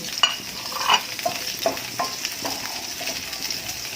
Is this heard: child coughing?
no